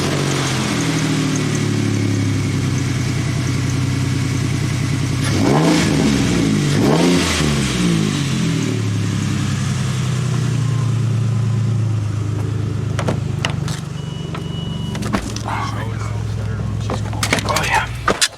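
A diesel plow truck's engine turns over and revs, its deep rumble rising in pitch through a couple of throttle bursts before settling back, with people talking nearby throughout.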